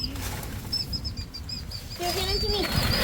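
Small baby birds chirping in high, thin repeated peeps while rescuers pull a drain cover off to save a young bird, the calls moderately close over rustling handling noise and background movement.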